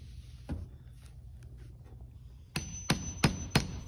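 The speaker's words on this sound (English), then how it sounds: "Using an awl, I pre-punched holes about 1/4 inch apart." An awl is punched through leather on a sailcloth jib, giving four sharp, close taps in quick succession near the end after a quieter stretch with one earlier knock.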